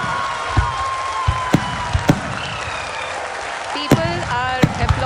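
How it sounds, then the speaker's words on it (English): Clapping from an audience celebrating the Chandrayaan-3 lunar landing, a steady wash of applause with a few sharp louder claps and some voices mixed in underneath. "People are applauding."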